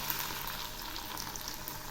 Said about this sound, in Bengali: এখন এগুলি এর সঙ্গে আদা ভাজা হয়ে যাবে। এগুলি ভাজা প্রায় হয়ে আসছে, আর একটু হবে। এখন আমি আবার একটু নেড়ে দিচ্ছি।